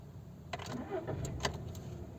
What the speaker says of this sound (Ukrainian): Заводимо на ручнику, зняв, не пристебнутий, ну, зрозуміло. Завелась без проблем, ось оберти, все чітко зафіксовано.